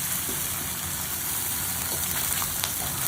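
Curry leaves and ginger-garlic paste fry in hot oil in a pan while tomato dal is cooked, giving a steady close sizzle with soft crackling and no talk.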